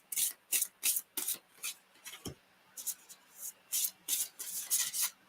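A deck of playing cards being shuffled, a series of quick riffling bursts in a rhythmic pattern, each a short papery flutter, close and distinct with brief gaps between, no speech over them.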